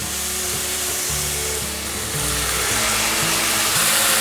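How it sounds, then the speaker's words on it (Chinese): Potatoes being stir-fried over medium heat with rose salt, bean paste, sugar and pepper in a pan, giving a steady, loud sizzle with a bit of water added, broken by scraping and tossing sounds, no voices. "转中火持续的翻炒，炒至马铃薯熟透"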